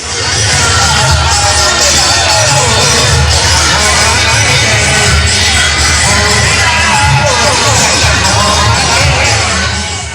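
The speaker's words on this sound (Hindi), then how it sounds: "इस देवत्व यात्रा को देखने के लिए सड़क के दोनों किनारों पर श्रद्धालुओं की भीड़ रही।" A dense crowd of devotees lines both sides of a Kumbh procession route at Prayag, a loud continuous roar of babble and shouting with occasional cheers and whoops, steady throughout.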